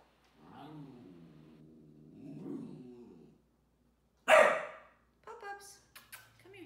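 Dogs bark during a puppy socialization session, a sharp loud burst followed by several shorter barks and yips, after a stretch of a person speaking calmly.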